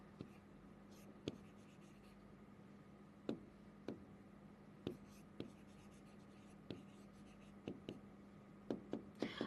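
Close, continuous scratchy strokes of writing on paper or board during a Bengali grammar lesson, broken by sharp taps of the pen or marker every second or so, quickening near the end, over a steady low hum and a faint murmur.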